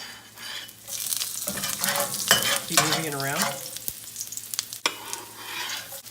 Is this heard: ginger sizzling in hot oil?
yes